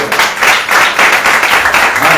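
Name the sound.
church congregation applauding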